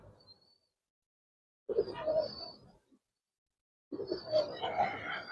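Giribaz pigeons coo softly in two short bursts separated by silence, low throaty sounds heard up close and fairly faint.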